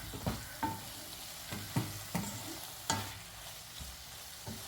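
Tomato and spinach curry is stirred in a pan: quiet, evenly spaced spatula strokes scrape and tap over a faint simmering sizzle, heard close with no talking.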